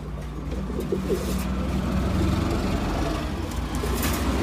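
Rajshahi Giribaj pigeons, males and females, coo softly nearby in low, repeated throaty calls over a steady background hum.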